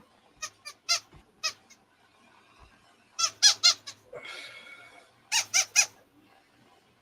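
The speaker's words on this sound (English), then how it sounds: "Look, there's a squeaky. Bite the squeaky." Squeaky dog toy squeezed in quick bursts of high squeaks, several clusters with pauses between, close and clear, with a short rustling noise in the middle.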